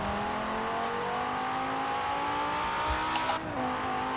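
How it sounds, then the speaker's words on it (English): Mercedes-Benz all-wheel-drive car launching hard in the racing game Forza Horizon 4, its engine revving steadily and climbing in pitch before a brief shift and a short tire squeal. "Forgot this car's on all-wheel drive, so I just smoked on the launch."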